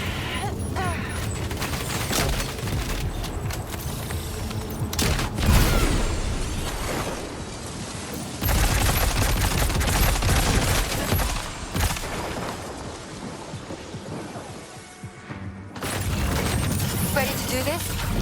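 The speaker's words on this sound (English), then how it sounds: "Open fire." Gunfire bursts and booms from the video game Death Stranding 2 come through a dense, loud game mix, with sustained firing and impacts running throughout and a brief lull near the end.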